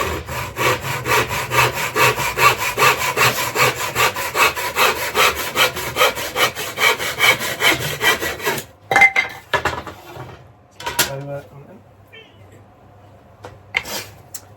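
Handsaw cutting through a piece of wood for a model railway baseboard, about eight seconds of rapid rhythmic rasping strokes, then the cut ends and a few knocks and handling sounds follow.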